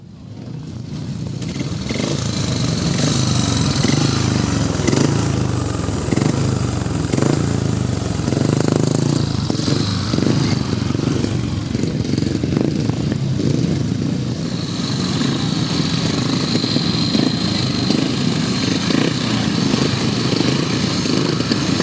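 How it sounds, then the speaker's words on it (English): Grasstrack racing with 500cc sidecar motorcycles gives a continuous loud engine roar, rising and falling as several machines pass at varying distances, with the whine swelling and fading throughout. "this is the end of the second leg ride for the 500 sidecars"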